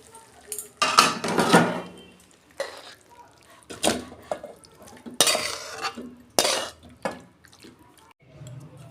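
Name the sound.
pouring and stirring bottle gourd greens in a pan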